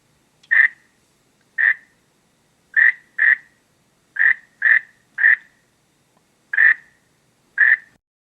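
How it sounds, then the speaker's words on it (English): A frog croaks nine times in short, sharp, evenly pitched calls spaced irregularly over several seconds, each close and clear against near silence with no other sounds or voices. "And the answer is a frog."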